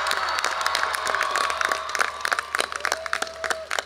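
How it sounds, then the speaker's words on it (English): A graduation commencement crowd at Chico State yells and claps in a dense, loud wave that thins into scattered, sharper individual claps toward the end. "can I get a yell and a round of applause for our first generation graduates?"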